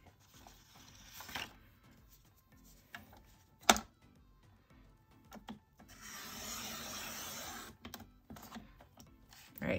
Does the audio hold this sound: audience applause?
no